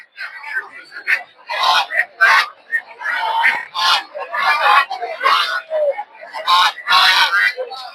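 A noisy cluster of Chinese ducks quacks and honks continuously, close by, with crowded poultry market bustle around them at Putia, Narsingdi.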